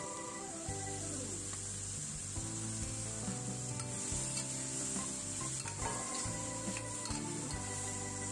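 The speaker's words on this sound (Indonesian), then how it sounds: "Masak terus, harus tetap terus diaduk supaya bumbunya juga masuk, meresap ke cempokanya." Sambal with cempokak and anchovies stirred in a pan, a steady scraping and sizzling bubbling under a continuous background hum, with no voices.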